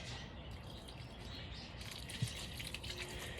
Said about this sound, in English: I'm gonna put a little bit of water just to help lube everything up a little bit so that I can mix it.